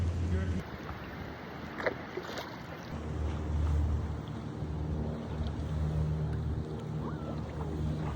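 Kayak paddling on Milford Sound, a fiord, with steady water wash and low rumbling wind or boat noise throughout, plus a few faint splashy knocks, moderately loud and continuous.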